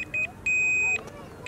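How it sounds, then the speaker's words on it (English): Power-on beeps from a pair of Gyroshoes hoverboard shoes: two clear, electronic tones, a short one followed by a longer one, close and loud over a quiet background. "And then you wait until you hear two beeps like this."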